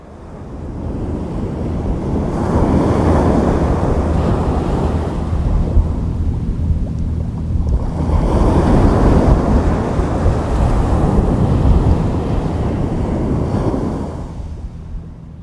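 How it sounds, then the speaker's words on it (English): Ocean waves rolling gently onto a sandy shore, long broad washes of surf that swell and recede twice, close and fairly loud with a windy rumble underneath. "waves rolled gently on the sand."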